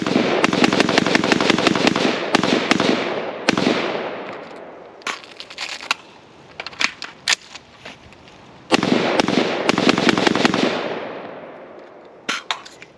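An LMT Estonian R20 rifle fires in rapid strings of close, loud, sharp shots, with bursts of quick shots separated by echoing pauses and scattered single shots.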